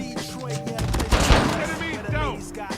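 A Fennec SMG fires in rapid bursts during a 2v2 video game match, sharp clustered shots with ringing tonal game sounds and effects around them.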